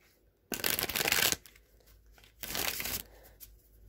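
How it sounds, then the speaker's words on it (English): Two bursts of Rider-Waite tarot card shuffling, each a dense papery riffle lasting under a second, separated by a short pause in an otherwise quiet room. "Let me just give them a few shuffles here."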